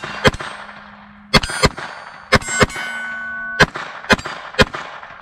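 Seven sharp outdoor gunshots sound at irregular intervals during a shooting session, several followed by a ringing metallic clang of rounds striking steel targets.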